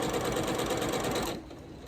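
A sewing machine stitches a quilt block seam at a steady, close, loud whir that runs for over a second, then cuts off and leaves a quieter tail.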